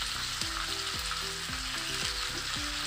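Chicken meat sizzling as it is spread across a frying pan for stew, a steady bright hiss with repeated scraping strokes of a utensil, close and fairly quiet, no voices.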